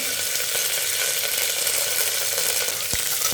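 Curry leaves, dried red chillies and garlic sauté in hot oil with a loud, continuous sizzle and crackle, close up, with a brief stirring knock near the end.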